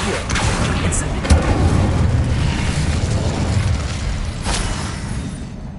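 An explosive Confringo fire spell bursts in the Hogwarts Legacy video game, a loud deep boom with a rumbling tail that stays dense and sustained under the game soundscape.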